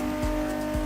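A car engine roars steadily, echoing inside a tunnel in the racing video game The Crew Motorfest. The loud, sustained drone has two brief low swells in quick succession.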